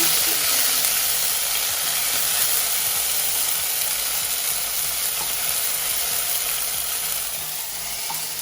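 Oil with cumin seeds and ginger paste sizzles steadily in a pan, a loud, continuous close-up hiss and crackle with no talking.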